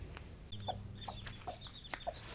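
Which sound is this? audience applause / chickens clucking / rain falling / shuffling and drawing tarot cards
chickens clucking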